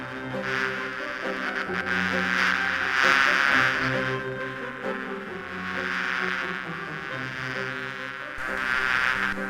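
A continuous buzzing drone of bees in a PS1 video game, Discworld II: Mortality Bytes!, hums at moderate volume, swelling and fading in waves over a layered background.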